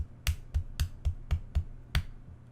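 Seven sharp hand claps in an uneven rhythm with short gaps, close to the microphone in an otherwise quiet room.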